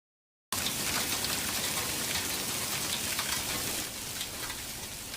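Hail falling onto a desk and the ground outside during a severe storm in Tennessee, a dense, continuous hiss and patter of many small impacts that starts abruptly and eases slightly near the end.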